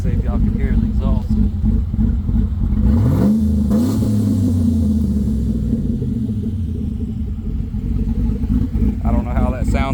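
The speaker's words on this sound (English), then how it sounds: "But let's see if y'all can hear the exhaust." A 2013 Chevrolet Silverado with a BTR stage 2 cam tune and a bad lifter idles with a loud, lumpy rumbling exhaust, then revs up once and falls back to a choppy idle, recorded close on a phone.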